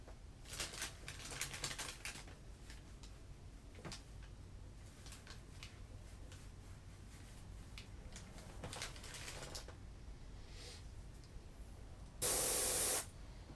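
Airbrush-style paint spray from an air compressor passing through a custom stencil in a studio, heard as soft intermittent hissing bursts of varying length, with a louder, steady spray burst near the end.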